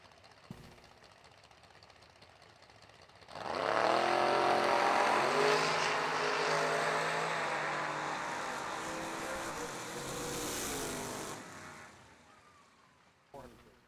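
Two drag cars, a Chevy II and a 1986 Camaro, launch down the strip at the New Year Nationals with a loud, roaring, rising engine blast that holds for several seconds before fading as they pass.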